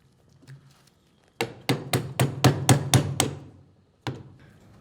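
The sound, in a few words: tapping a square key into a shaft keyway with a punch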